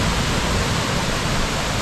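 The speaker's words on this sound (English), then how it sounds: "there's a little pool right there, and it's just bubbling white water" Bubbling white water churns in an ocean pool near a blowhole, making a dense, steady, close rush of foamy noise with no voices.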